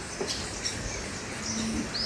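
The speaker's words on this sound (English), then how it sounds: "Some palm tanagers." A few thin, high palm tanager calls ring out sporadically over quiet ambient noise, brief chirps and a short rising whistle near the end.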